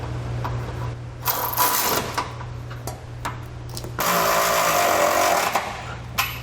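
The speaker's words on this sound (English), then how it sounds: "Now we'll go ahead and tighten down our hardware with a 19mm socket." A power tool with a 19mm socket tightens the bolts of a trailer hitch receiver on a 2015 Chevrolet Traverse, giving rapid rattling bursts that start and stop over a steady low hum, loud and close, with no talking.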